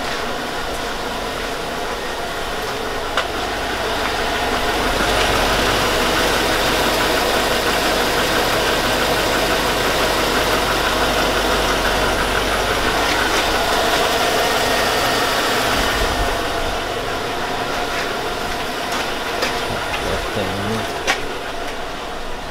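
A 2002 Chevy Avalanche with a 5.3L engine idles steadily up close, with a faint ticking from the lifters running through the even, continuous engine drone.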